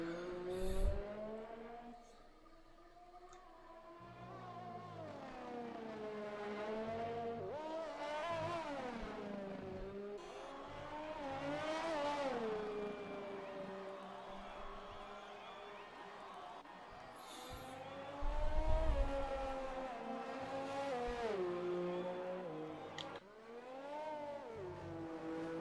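F1 racing game cars on qualifying laps at the Russian Grand Prix, with whining engines rising and falling in sweeping pitch as cars pass and shift, and a short louder burst near the end.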